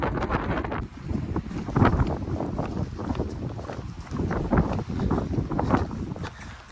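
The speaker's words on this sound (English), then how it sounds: "The wind's just picked up like there's nothing" Strong wind buffeting the microphone on an exposed Lake District fell during the Kentmere horseshoe walk, loud, gusty roaring rumble that surges and dips continuously, with no speech over it.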